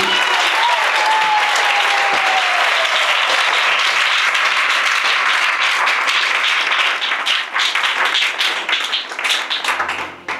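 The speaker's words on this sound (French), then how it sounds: "On acclame Jésus." A crowd applauds at a religious gathering, dense clapping filling the space loudly and continuously, thinning into scattered claps toward the end.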